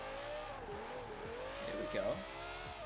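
Stock car engine in a Forza racing game, a steady buzzing drone with gear-shift pitch sweeps, heard faintly beneath someone talking.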